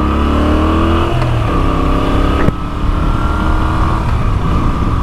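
A Moto Guzzi V7 850 motorcycle engine revving hard on the throttle while riding, with a loud steady drone and rising then falling pitch as the revs change, plus a shift and brief dip midway.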